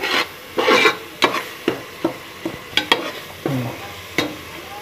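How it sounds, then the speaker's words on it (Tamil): Masala for mutton curry is stirred in a pan, sounding as close, rhythmic scraping strokes of a spoon against the metal, about a dozen rasping sweeps over a soft sizzle. "பச்சை வாசனை போகிற வரைக்கும் நல்லா கிளறி விட்டுக்கோங்க."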